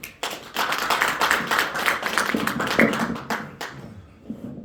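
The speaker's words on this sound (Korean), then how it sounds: "큰 박수로 맞이해 주십시오" Audience applause welcoming a lecturer at a urology medical lecture, a burst of many hands clapping that starts abruptly, holds for several seconds at moderate loudness, then thins out and fades.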